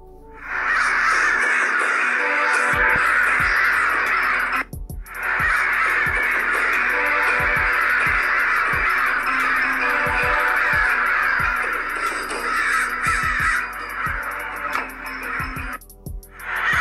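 A flock of crows caws continuously and loudly, overlapping harsh calls forming a dense, nearly unbroken chorus with brief pauses and occasional low thumps.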